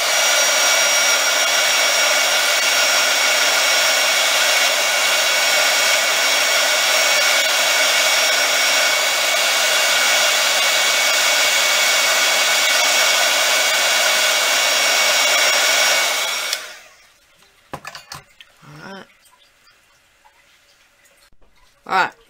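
A hair dryer drying paint on a craft Easter egg blows with a loud, steady whir for about sixteen seconds, then cuts off, leaving a few faint clicks and handling taps.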